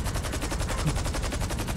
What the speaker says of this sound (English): Firing my laser.